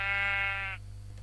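A sheep in a video game gives one clear, close bleat lasting under a second, followed by quiet.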